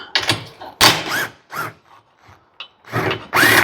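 A wrench works a nut on a golf cart in repeated bursts of scraping, ratcheting metal contact, several short close strokes separated by brief pauses.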